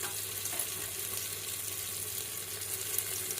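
Tomato masala sizzles steadily in hot oil as turmeric and chili are added, a continuous close frying hiss with no talk.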